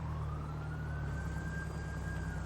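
Police siren in GTA 5, a wailing tone rising slowly over heavy traffic and engine rumble, continuous and fairly close.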